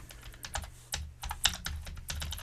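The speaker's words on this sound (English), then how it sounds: "I'm typing it in right now." Rapid, irregular clicking of keys on a computer keyboard, close and fairly quiet, typed in quick bursts with brief pauses and no talk.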